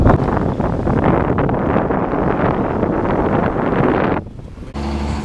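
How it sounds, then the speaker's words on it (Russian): Sea waves and wind on a beach at Punta Cana in the Dominican Republic, a loud, steady wash of surf under heavy wind buffeting the microphone, cutting off sharply near the end into a quieter hum. "Море поет."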